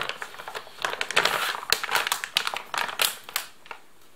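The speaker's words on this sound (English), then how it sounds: "there is no easy way to open, so I will just cut the bag" Scissors cut open the plastic bag of a Russian army 24-hour ration, with close, crinkly crackling and snipping bursts in an uneven rhythm.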